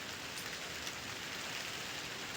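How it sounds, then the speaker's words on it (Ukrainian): Steady rain falls outdoors over a vegetable garden during a beet and carrot harvest, a soft continuous hiss of drops pattering on surfaces, moderately faint and unbroken, with no voices. "Хто це думав, що це піде дощик, да?"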